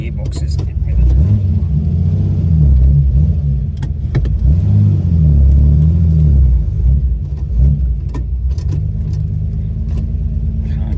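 Holden Torana engine revving and pulling away, a loud, close rumbling engine that rises and falls with revs and gear changes, continuing at a steady drone.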